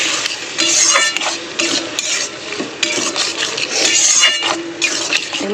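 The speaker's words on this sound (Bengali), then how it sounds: "এটা মশলার সাথে এবার কষাবো।" Soaked, unboiled matar dal being stirred and sautéed with spices in a pan, with steady scraping and stirring strokes against the pan and a soft sizzle underneath, close and continuous.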